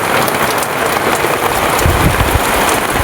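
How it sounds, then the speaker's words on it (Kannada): Rain pours down outside, a broad, even wash of drops striking surfaces, loud and unbroken for a few seconds with no voices. "ಗಾಯ್ಸ್ ಮಳೆ ಬರ್ತಿದೆ ನೋಡಿ ಗಾಯ್ಸ್"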